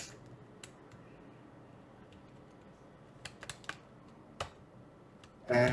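Someone types on a computer keyboard in light, irregular bursts of close clicks, with a couple of quick clusters and pauses between them.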